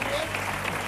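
A TV studio audience bursts into brief, steady applause, a dense patter of many hands heard for under a second alongside a voice.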